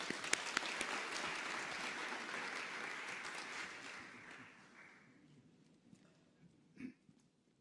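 A large audience claps warmly to welcome a speaker at a public lecture on city public realm, starting full and dense, then slowly thinning out into a few scattered claps before fading.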